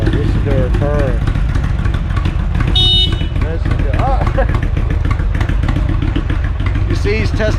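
An Indian motorcycle engine idles nearby with a low, steady rumble, while a person talks over it and a brief horn-like tone cuts in.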